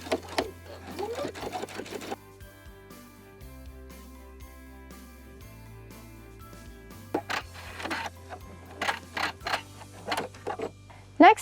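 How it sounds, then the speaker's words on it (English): Domestic sewing machine understitching a neckline facing on a garment: bursts of fast mechanical stitching that stop and start, with quieter pauses and handling noises in between. "Now we're gonna stitch 1/8 of an inch away from the seam"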